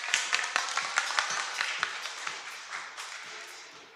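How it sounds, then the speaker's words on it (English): Audience applause welcoming the final speaker at an Ethereum conference, ETH Taipei 2024: a steady patter of many hands clapping with sharp individual claps standing out, fairly close, continuing for several seconds with no talk. "let's just give him a round of applause"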